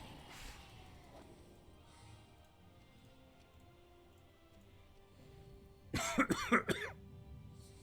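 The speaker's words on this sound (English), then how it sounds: "Oh no, I'm coughing." A streamer coughs close to the microphone in a short, loud burst of several harsh coughs near the end, following quiet background ticks and a brief throat sound earlier.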